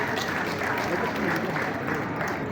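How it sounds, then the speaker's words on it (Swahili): An assembly audience in a hall claps loudly and steadily throughout, a dense wash of many hands with crowd noise mixed in. "Wapigeni makofi"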